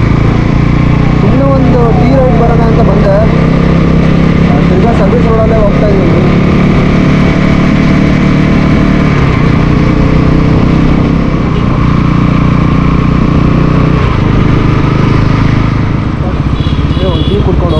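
Bajaj Pulsar NS400Z motorcycle riding along a service road beside a national highway, a steady close engine drone with wind rush throughout, a voice speaking over it at times.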